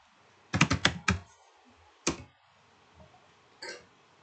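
Several quick keystrokes on a computer keyboard tap out in a fast burst, followed by a few isolated clicks spaced apart, close and fairly clear over a quiet background with no talking.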